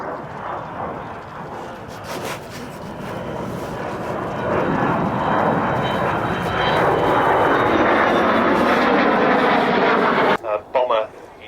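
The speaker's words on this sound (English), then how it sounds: "here she is, the wonderful Avro Vulcan XH558, your Vulcan." Avro Vulcan XH558 delta-wing bomber passing at an airshow, a loud, rising jet roar that builds steadily over several seconds and holds at full strength before cutting off abruptly, with a voice talking faintly beneath it.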